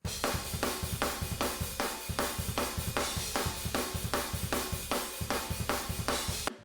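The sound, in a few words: drum kit room microphones with snare sample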